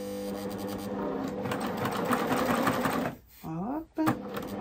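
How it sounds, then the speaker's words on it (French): A flatbed sewing machine stitching trousers runs in a steady, close, rapid mechanical rattle for about three seconds, then stops; a voice speaks briefly in the pauses afterward, with a short burst of stitching near the end. "avec ma machine plate"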